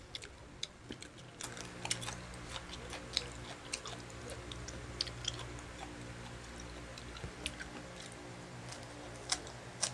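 Someone chews and eats onion up close, with crunchy, irregular bites and soft mouth clicks through a quiet room and no talking.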